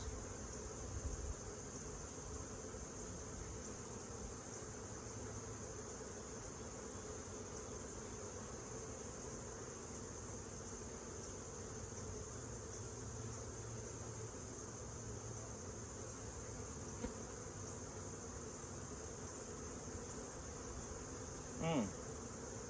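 Honey bees buzz in a steady, continuous drone around a beekeeper taking honey from the hive, several insects humming close by, with a brief louder buzz near the end.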